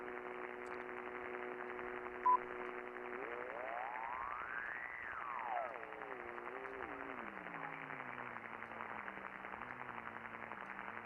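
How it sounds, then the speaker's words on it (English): A steady low carrier hum on an Icom 7300 ham radio beneath hissy static, with a tone sweeping up then down as tuning shifts, settling into stepped warbling pitches. "Hear the carrier. Hear that low hum, right?"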